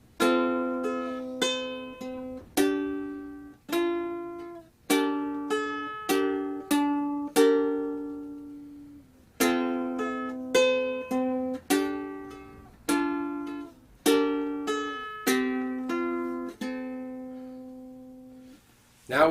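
A ukulele plays the first eight bars of In the Bleak Midwinter: slow, evenly spaced plucked notes and chords ring out clearly up close, with a brief pause midway and a final lingering note.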